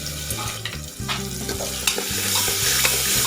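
Onion fries in oil with asafoetida and turmeric for a round bottle gourd curry, a loud close sizzle with repeated stirring scrapes over a low steady hum.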